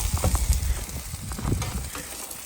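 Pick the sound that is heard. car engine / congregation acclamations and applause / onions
onions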